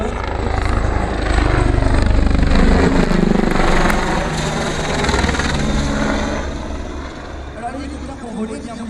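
A Tigre attack helicopter's main and anti-torque rotors produce a loud, steady whirring drone with a heavy low thump. It swells in the middle and then eases slightly, and it runs throughout.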